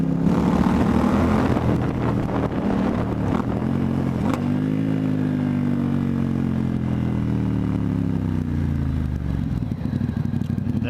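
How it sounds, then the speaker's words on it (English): A Ducati XDiavel S motorcycle with a Termignoni exhaust rumbles loud and close, pitch climbing and falling through gear changes in a continuous deep, throaty drone. "That is a mean sounding exhaust system."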